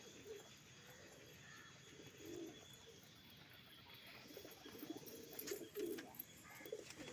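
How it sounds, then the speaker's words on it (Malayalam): Homer pigeons coo softly in a loft, low rounded calls rising in a few brief clusters over quiet background noise, with no talk. "എല്ലാ പ്രാവും തുറന്നൊക്കെ വിട്ടിട്ടുണ്ട്."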